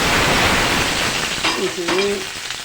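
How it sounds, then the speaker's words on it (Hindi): Curry leaves and white cumin dropped into hot oil sizzle loudly and close, a continuous crackling hiss, briefly joined by a spoken voice midway. "इसमें ऑयल में आप कड़ी पत्ता और सफ़ेद ज़ीरा डालें"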